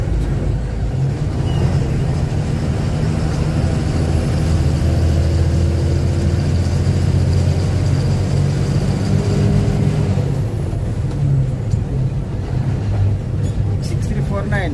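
A Nelamangala vehicle on a road near dry forest gives a loud, steady engine drone that holds for about ten seconds, then eases and fades as it moves off.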